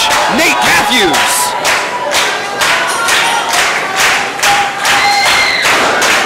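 Wrestling arena crowd at a New Wave Pro event roars and cheers continuously, loud and dense, with scattered claps, whistles and yells rising over the steady din.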